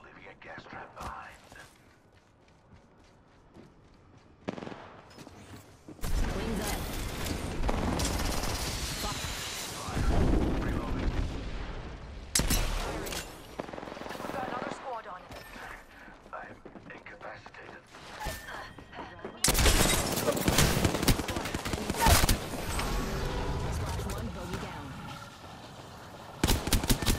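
Bursts of automatic gunfire and explosive booms from the Apex Legends battle royale shooter, loud and dense in several stretches with brief lulls, under a character voice calling out game lines.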